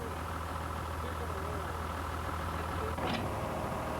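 A wheel loader's diesel engine idling steadily after working under full load, parked with the bucket lowered, a constant low rumble with a brief rising whine near the end.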